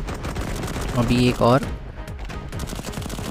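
Rapid gunfire bursts in the shooter game Cover Fire rattle through a short boss-fight moment, with someone speaking briefly over the shots.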